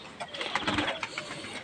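Pigeons cooing outdoors around a pigeon loft, soft repeated murmuring calls close by, with faint mechanical background hum.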